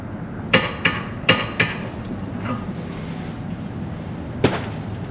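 Hammer blows during installation of a 90 amp alternator with a welded fan: several sharp metallic strikes in quick pairs early on, then one more isolated hit, fairly loud against a steady background hum.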